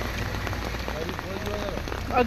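Heavy rain lashes down near a temple in Puri as wind picks up, a constant dense hiss with scattered drops, while someone talks over it.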